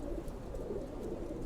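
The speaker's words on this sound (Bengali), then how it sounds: "এখানে 5টা বাচ্চা আমাদের 4 পেয়ার লালপাতি কবুতরের ভিতর থেকে মাশাআল্লাহ।" Lalpatti pigeons coo softly in their loft, a low steady murmur of overlapping calls heard close by with no talking.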